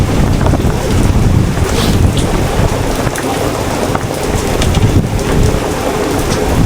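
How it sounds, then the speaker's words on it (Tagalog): Heavy rain pours onto a flooded hut and its surroundings, a loud, dense, unbroken roar of water lasting throughout with no voices. "Grabe ang ulan."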